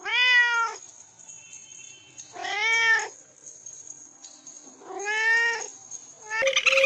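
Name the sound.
cat meowing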